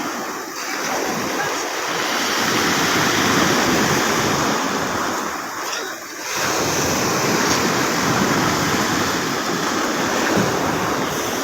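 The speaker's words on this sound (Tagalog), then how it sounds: "Medyo malalaki ang alon" Heavy surf crashing and rolling continuously as a boat is hauled ashore, a loud wash of big breaking waves with a brief lull midway, wind noise buffeting the microphone.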